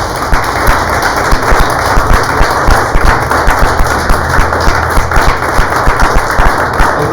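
A church congregation applauds loudly and close, with rapid, dense clapping and sharp hand slaps in a steady, continuous stream.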